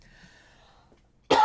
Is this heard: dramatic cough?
yes